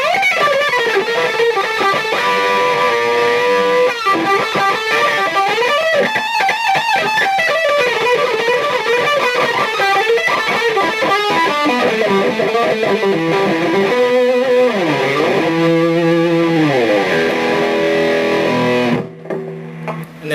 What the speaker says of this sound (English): I'm just going to turn the gain up a little bit and move it up to high gain mode.